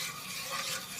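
Stove top play dough being stirred in a pot, a soft continuous scraping and rubbing with faint sizzle-like texture, close and quiet, no talk.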